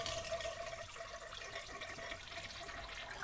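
A Fluidmaster Duoflush toilet conversion flushing with the lever held down, giving a steady, close rush of draining water that runs on without a break and without any talk.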